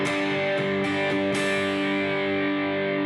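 A G5 open-position power chord strummed on the bottom four strings of a distorted electric guitar, a handful of quick strokes in the first second and a half followed by a thick, sustained ring, loud and alone.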